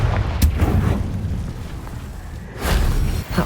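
Confringo blast spells from the Hogwarts Legacy video game, two heavy booming explosions, one sharp burst early and a longer rumbling blast later, each with a loud low-end thump and a decaying tail.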